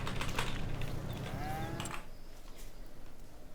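Angus cows on a farm in Farming Simulator 25, a drawn-out low moo from a nearby animal over a steady rumble of game ambience, then quieter background noise after it.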